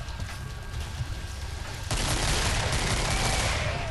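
Gunfire in the video game Killing Floor sounds as a dense, continuous roar of shots that grows louder and harsher midway, with no talking.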